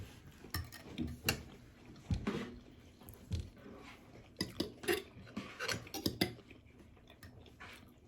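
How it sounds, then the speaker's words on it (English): A fork clinks and scrapes against dishes during a plant-based nugget meal, scattered light taps and clatters close by, mixed with soft chewing and no talking. "Keep picking up the fork, forgetting that I have a spoon."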